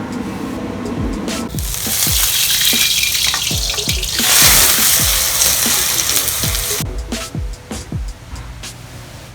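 Steady sizzling and crackling of Chinese sausage frying in a pan, with clinks and scrapes of a utensil against the pan throughout.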